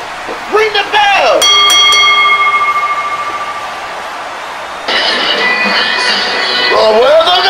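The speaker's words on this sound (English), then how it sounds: "One! Two, three, ring the bell!" A wrestling ring bell clangs repeatedly at the end of a match. It rings loud and near, then fades under the noise of an excited arena crowd and a commentator, with a second burst of ringing near the end.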